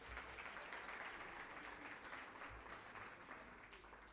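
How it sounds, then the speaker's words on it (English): An awards-ceremony audience applauds a presenter, a sustained crowd of clapping hands heard at a distance and fairly faint, holding steady before easing off slightly near the end. "Let's give him a round of applause."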